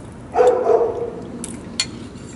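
A puppy gives a couple of short, high yips up close near the Giza pyramids in Egypt, followed by faint clicks and background noise.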